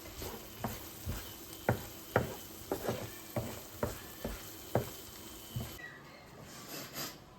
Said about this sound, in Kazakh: Жақсылап тұрып, тағы да бір араластырайық.